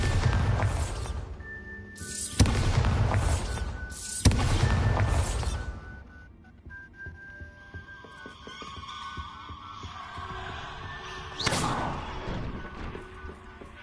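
Bombarda blasting spell explosions in the Hogwarts Legacy video game: several loud booming blasts in quick succession, then a quieter rumbling stretch and one more blast near the end.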